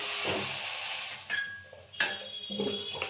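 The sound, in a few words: chicken meat poured into hot kadai, sizzling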